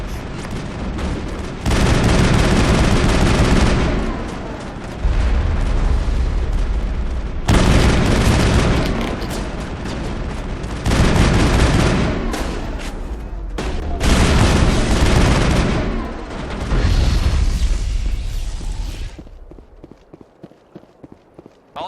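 Battle gunfire from the video game Mass Effect, a dense, loud, sustained roar of shots and booms arriving in long bursts separated by brief breaks, ending in a quieter tail of scattered pops.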